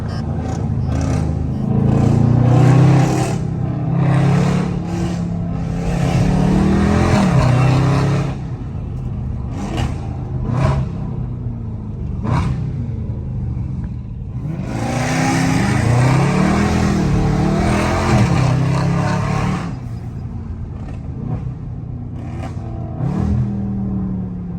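A Jeep Trackhawk in sport mode revs and accelerates through city traffic, its engine surging loudly in repeated rising pulls with brief lifts and pops between bursts, close and dominant.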